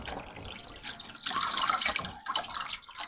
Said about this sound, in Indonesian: Saya pakai selang aja nih biar cepet ya.